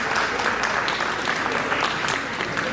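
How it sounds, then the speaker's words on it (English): Dense, continuous applause fills the room at an Indo-American community celebration of America's 250th Independence anniversary, many hands clapping at once at an even, fairly loud level. "Give the round of applause, please."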